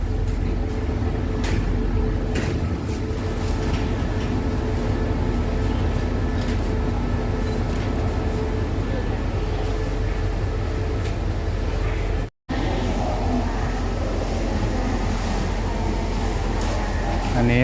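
Steady low rumble and rattle of a moving passenger train, Thai train 135 from Bangkok to Ubon Ratchathani, heard from inside the carriage, continuous throughout with a brief dropout near the end.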